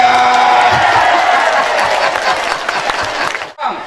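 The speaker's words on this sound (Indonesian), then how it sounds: "Tepuk tangan yang gede ya." Loud, dense applause and cheering from a large audience at a Batak cultural seminar, sustained close-up before cutting off abruptly near the end.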